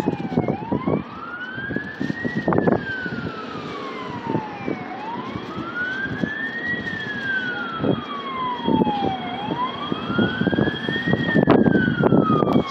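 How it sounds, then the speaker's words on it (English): Several San Francisco fire trucks approach with wailing sirens sweeping up and down in long cycles, loud and close, over rumbling engines and street traffic. "And there's more fire trucks approaching."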